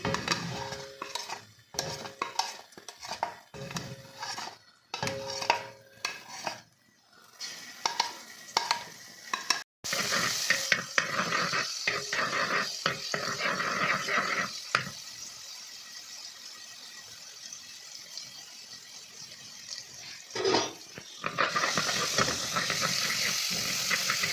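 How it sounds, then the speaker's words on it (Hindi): Ginger garlic paste frying in hot oil hisses and sizzles, with spoon scraping and clinks against the pan, quieter at first then a steady sizzle. "अब ये जो लहसुन अदरक का पेस्ट है इसको थोड़ा सा भूनूंगी तेल में"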